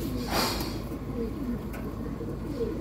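Pigeons coo softly in low rounded calls, several short coos spread across a quiet background with faint ambient noise and a brief brighter sound near the start.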